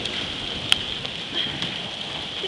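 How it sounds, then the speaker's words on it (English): Hail pelts a car during a storm, a dense steady patter of small hits with a few sharper single impacts standing out, heard close with rain mixed in. "it's still hailing"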